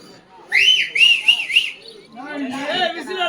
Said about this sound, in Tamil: நீ சரியான ஆம்பளை, என்ன பார்த்து விசில் அடி.